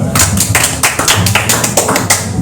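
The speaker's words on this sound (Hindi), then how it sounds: "clap for her" Classroom audience claps for a student public speaker, a steady dense patter of many hands, loud and close, with no talking over it.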